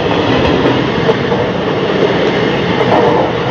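Train noise on a Dharwad to Bangalore rail journey: a loud, steady rumble of a passing train with rolling wheel noise filling the clip, no voices.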